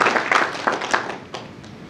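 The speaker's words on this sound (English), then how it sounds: "I want to invite everyone to clap for him." A crowd at a book launch claps in a short, uneven burst of scattered hands, loudest at the start and thinning out toward the end, with no talk over it.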